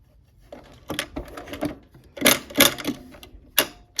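A sewing machine stitches a decorative stitch on fabric, producing irregular clusters of quick mechanical clacks and taps with short pauses as the fabric is turned.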